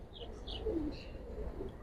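Giribaz pigeons cooing, soft low throaty coos close by in a short quiet moment, with faint chirps in the background.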